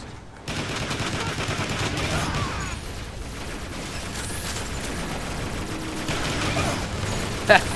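Sustained rapid gunfire in Transformers: War for Cybertron rattles on steadily and moderately loud, with mechanical clanks and a sharp impact near the end.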